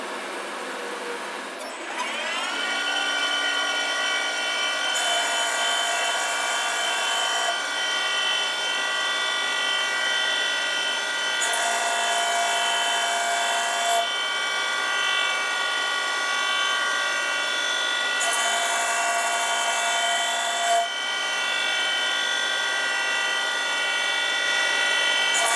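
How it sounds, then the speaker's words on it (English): CNC machine cutting a notch in a rotary engine rotor housing, a continuous loud whirring machining drone with steady tonal whine that shifts slightly in intensity at intervals, running alone for over twenty seconds. "now what we're going to do is we're going to cut the notch in the rotor housing for the bridge port"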